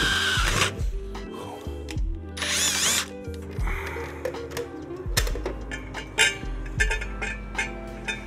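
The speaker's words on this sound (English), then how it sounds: "Drill a hole this way, drill a hole that way." A power drill bores holes in metal for motorcycle headlight ears on a Triumph Thruxton 900 build, whining in short bursts and long runs, with clanks and handling noise between them in a workshop.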